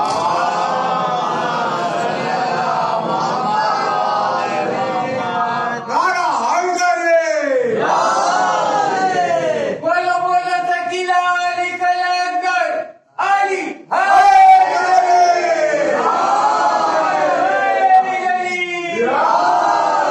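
A large crowd at a religious majlis gathering loudly chants salawat in unison, with voices swelling and falling in repeated surging phrases that fill the space, briefly pausing before resuming.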